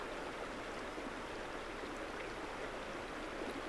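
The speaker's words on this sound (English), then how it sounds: "As I listen to the sound of the river." A flowing river in Sedona, Arizona, heard as a steady, broad rushing wash of water, even and continuous, with no voices over it.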